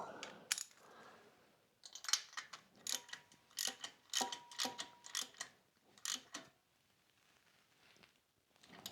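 A ratchet clicks in quick bursts of metallic ticks while fresh spark plugs are tightened into a Harley-Davidson Low Rider engine, close and clear, with short pauses between the runs of clicks.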